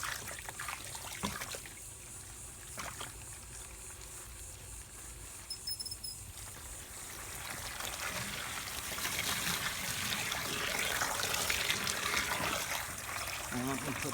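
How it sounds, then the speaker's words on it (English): Water running from a tap into a container while cleaning calcite crystal seashell specimens, a soft trickle that builds into a steadier stream, with quiet talk around it. "Took me a minute to get that water running"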